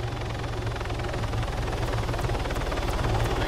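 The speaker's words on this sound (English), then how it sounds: "It's his chopper, he'll crash if he wants to." A helicopter's rotor thrums steadily throughout, a continuous pulsing drone at moderate distance with faint voices underneath.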